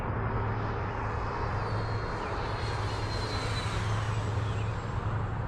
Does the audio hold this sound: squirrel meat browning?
no